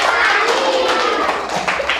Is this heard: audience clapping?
yes